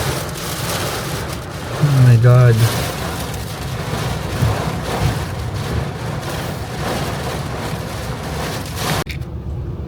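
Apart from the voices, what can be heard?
strong wind and rain during a thunderstorm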